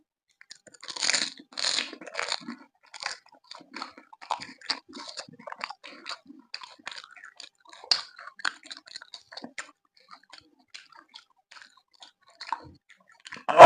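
Spicy fuchka (panipuri) street food eaten up close during an eating challenge: crisp crunching bites followed by a long run of irregular, wet chewing crackles, with no talking.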